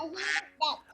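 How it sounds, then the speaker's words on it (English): A duck quacks in a short series of nasal, honking calls, close and fairly loud, with brief pauses between them. "I hear a duck, duck, duck, duck, duck."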